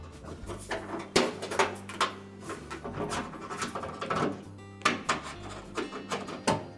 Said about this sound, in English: Now next we'll open the door up and we'll position the door latch.